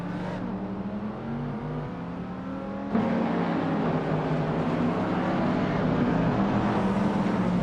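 A 2006 Honda Civic Si races in a racing game, its engine a loud, continuous buzzing whine that jumps in intensity partway through and keeps revving hard with other cars roaring around it.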